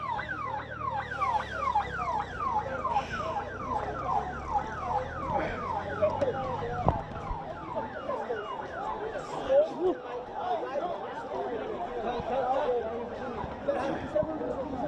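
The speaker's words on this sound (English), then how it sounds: "You can see ambulance moving ahead" Ambulance siren wailing in rapid repeated sweeps on a city street during a protest in Guwahati, Assam, where tear gas is being fired and crowds dispersed, fairly loud and continuous with crowd chatter and someone talking over it.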